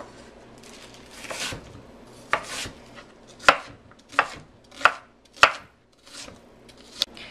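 Onion chopped with a knife on a cutting board for chicken wild rice soup: about eight distinct, fairly sharp thuds at an uneven, unhurried pace, close by, with no talk.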